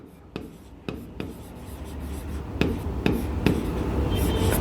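A pen writes numbers during a chemistry lesson on solutions, making sharp taps and a steady scratchy stroke across paper, close and clear with no speech over it.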